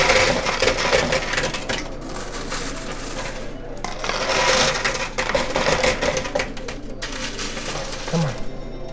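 Coins clattering and dropping in a coin pusher arcade machine, a dense continuous jingle of metal with bursts of spilling coins over a busy background.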